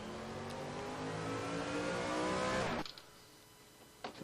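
A race car roars past on track at a Charlotte practice session, its engine loud and steady for nearly three seconds before cutting away to near quiet, with a brief burst of noise returning at the end.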